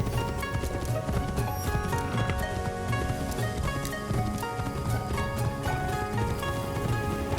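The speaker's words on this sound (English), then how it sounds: "Ooh, you can ride on a horse for hours on end." Rhythmic clip-clop of a horse's hooves during a ride in a Ubisoft video game, steady and fairly close over a busy bed of game music and ambience.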